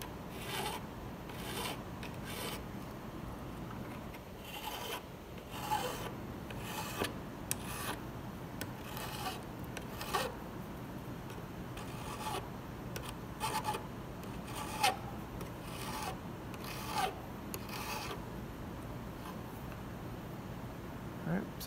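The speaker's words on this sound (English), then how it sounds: "If you're having a hard time controlling the file, if it keeps wanting to slide off, use your other fingers to help control where that file can go." Hand file rasping across a metal workpiece in steady, repeated strokes, each scrape close and moderately loud with a brief pause between passes.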